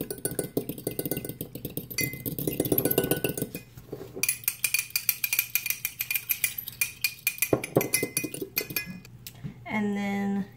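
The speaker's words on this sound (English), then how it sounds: "we're going to whisk this" A whisk clinks and scrapes rapidly against a bowl while milk is beaten into a mixture for a peach cobbler, close and busy, with brief pauses and a short voice near the end.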